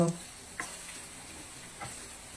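Garlic-powder-marinated chicken sautéing in a pan, a soft continuous sizzle with a few light stirring clicks, fairly quiet and close, after a brief voice at the start.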